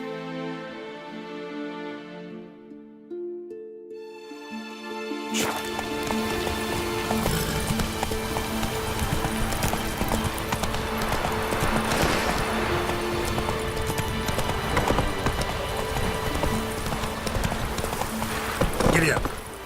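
Galloping horse hooves from The Witcher 3, a dense rapid pounding that begins a few seconds in and runs loud and steady to the end, after a quieter musical opening.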